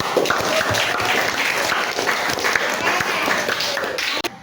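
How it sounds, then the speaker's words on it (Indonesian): A room full of people clapping steadily and densely for several seconds after a group presentation, loud and close, ending abruptly. "Beri tepuk tangan dulu dong."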